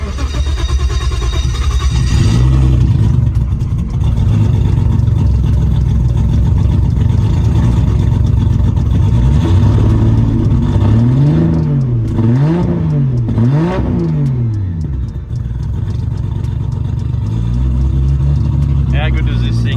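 VL Turbo Australian muscle car engine running and revving, a loud close rumble with rising and falling throttle sweeps and a final rev, with a person talking over it.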